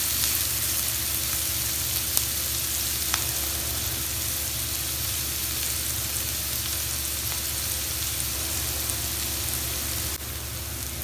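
Chopped onions sizzle steadily in a hot pan as they soften for a chicken patty filling. The frying hiss stays loud and even throughout, with a few tiny pops and no voices.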